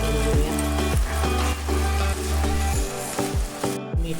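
A piece of carrot dropped into hot oil in a pan, sizzling and frying steadily with repeated soft clicks and spatters, loud and close, no voices.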